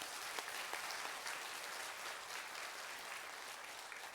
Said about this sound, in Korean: 우리 힘내라고 박수 한번 또 해줘요